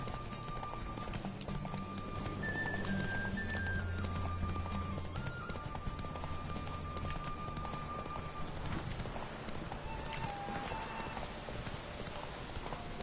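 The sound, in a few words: horse galloping in video game The Witcher 3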